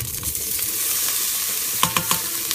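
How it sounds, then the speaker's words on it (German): Beef sizzles in hot oil in a pan, cooked for a Chinese beef and vegetable soup, with a steady close frying hiss and a few sharp utensil clicks toward the end. "Das Fleisch bisschen braten."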